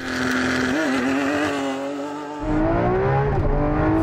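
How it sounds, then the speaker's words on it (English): A Lamborghini Aventador launches hard, its engine screaming up through the revs, dropping briefly at a gear change, then surging loud again and climbing. "Here's an Aventador launching just for good measure."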